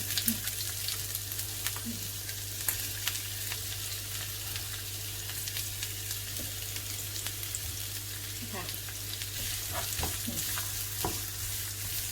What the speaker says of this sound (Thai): ใส่หอมลงไป ใส่ลงไปเข้าทุกอย่างเลยค่ะ เข้าลงไปผัดให้มันเข้ากัน